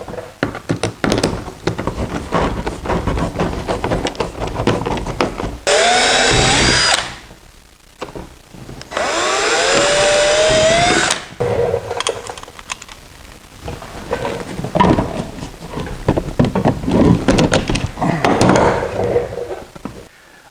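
A power drill bores holes while a front splitter is built for a Power Wheels ride-on car. Two sustained whining runs of the motor are separated by clattering handling, knocks and bursts of shorter drilling, loud and close.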